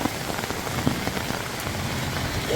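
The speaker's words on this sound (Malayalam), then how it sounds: "അപ്പൂസേ മഴ കൊള്ളാവൂ?" Rain falls outdoors in a soft, steady patter on surfaces, with a few louder individual drops standing out close by; fairly quiet overall and no one speaking.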